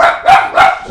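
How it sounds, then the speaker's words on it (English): Dogs bark indoors in a quick burst of two or three loud, close barks, with no talking over them, during a live vending-business stream. "Sorry about the dogs. I apologize."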